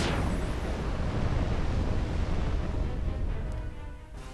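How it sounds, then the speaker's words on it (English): A massive Inferno spell explosion in the Final Fantasy XII video game hits with a sharp blast, then a long, loud roaring rumble that slowly fades, with no talking. "Now do the massive explosion and finish Bergan off once and for all with Inferno."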